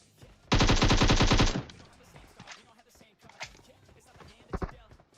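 In PUBG Mobile, a loud, rapid automatic burst of about a second is followed by scattered, fainter shots and game noises, with a few sharper cracks near the end.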